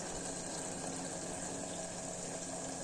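Water is poured steadily into a pot for vegetable pulao, a continuous close rushing pour with no breaks.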